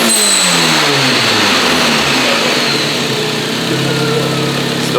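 A tuned Volvo engine revving hard, its exhaust manifold crackling, a loud, close roar sweeping up and down in pitch with gritty popping over it and no voices.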